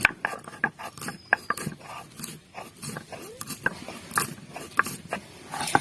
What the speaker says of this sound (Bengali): এখন আমি গোলমরিচগুলো বেটে নেব।